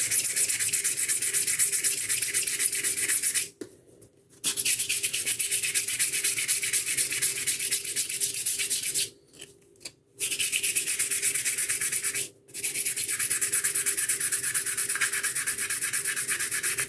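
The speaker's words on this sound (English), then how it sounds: "I got to sand in here a little bit. Get a smaller piece of this 180. It's the perfect grit for this." Hand sanding a small workpiece with a piece of 180 grit sandpaper gives a steady, close scratchy rubbing that runs continuously, broken by a few short pauses.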